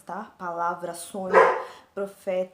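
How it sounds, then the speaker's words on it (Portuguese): A pet dog barks in a home, several sharp, close, loud barks in quick bursts, mixed with someone speaking Portuguese between and over them. "desculpa o meu cachorro, porque ele sempre late aqui"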